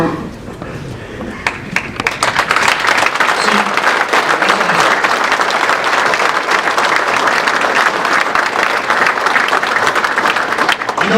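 A seminar audience breaks into sustained applause, starting thinner and swelling within a couple of seconds into loud, dense clapping from many people that continues steadily throughout.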